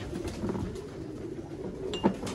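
A golden pigeon cooes softly while held in a hand, a low steady murmur with a brief brighter call near the end, close by.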